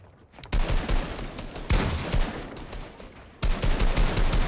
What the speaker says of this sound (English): Shotgun's coming in.